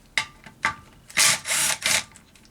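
A power tool whirs in short bursts while removing preload bolts from a Honda Civic Type R EP3 gearbox, several quick buzzing spins, close and loud, without any talk.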